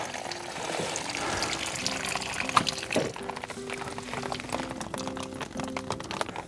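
Water is poured from a watering can over mulch sitting on a sieve in a garden experiment, making a continuous, moderate pouring and splashing sound with scattered drips and a faint background hum.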